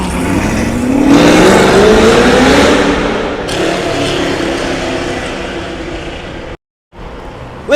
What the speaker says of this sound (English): Or you can show off on your car like that, rev your engine even faster.